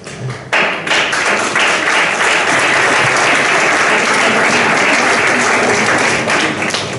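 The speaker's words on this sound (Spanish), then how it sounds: "he arrancado un aplauso" Audience applause breaks out at a Spanish political event where Pedro Sánchez is speaking, a sudden dense burst of clapping that holds steady and loud for several seconds with no talk over it.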